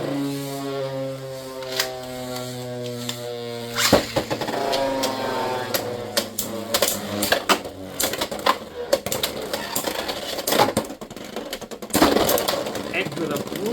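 Beyblade X tops clashing in a tournament stadium battle, a steady whirring spin broken by repeated sharp plastic clacks and rattling hits, close and loud, with a voice talking over it.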